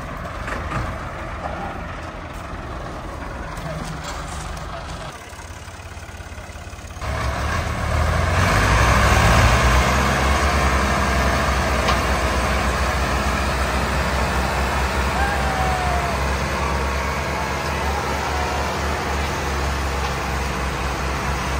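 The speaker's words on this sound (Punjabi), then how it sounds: "ਟਰੈਕਟਰ ਬੇਜ਼ੋਰ" A Massey Ferguson 385 tractor pulls a loaded sugarcane trolley, its diesel engine rising from a quieter idle to a loud, sustained labouring roar that holds steady for the rest of the stretch, with no speech.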